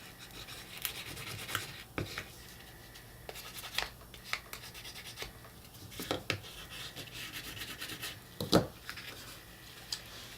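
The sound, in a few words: burnishing paper on a slipcase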